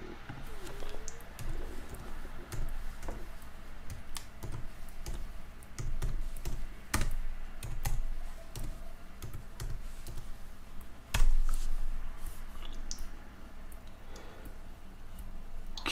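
Scattered, irregular keystrokes on a computer keyboard, close by and fairly quiet, tapping unevenly across the stretch with a slightly louder clack near the middle, no voices.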